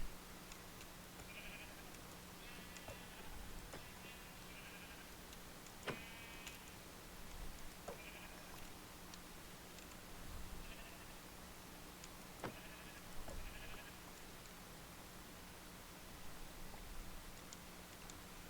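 Sheep bleating in a blocky survival video game world, a few short bleats scattered over a steady low hum, with clicking footsteps and game ambience; no talking.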